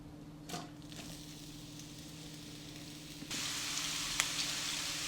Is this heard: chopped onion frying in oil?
yes